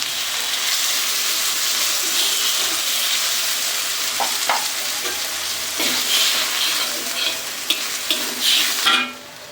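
Chicken curry with ol (elephant foot yam) sizzling in a pan after water goes in, a close steady hiss with scraping stir strokes that dies down abruptly at the end.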